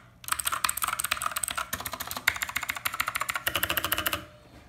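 Rapid, steady typing on a mechanical keyboard with stock keycaps and no O-rings fitted, a dense run of close, sharp clacks with one brief pause midway, alone without speech.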